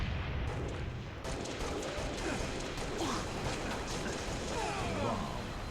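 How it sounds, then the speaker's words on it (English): A bomb detonates in Halo MCC multiplayer on PC, a low rumbling blast under continuous gunfire and game noise, followed by further scattered impacts. "Bomb detonated."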